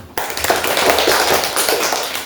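A sixth-grade class clapping in a classroom after a group presentation in a religious studies lesson; a sudden start of fairly loud, busy hand claps from many children, sustained for a couple of seconds.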